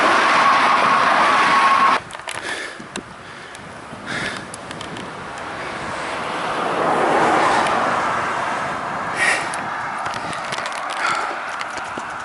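Road traffic passing a cyclist pushing uphill in Georgia, with cars rushing by close in swelling and fading whooshes, one loud pass at the start and steady tire roar afterward.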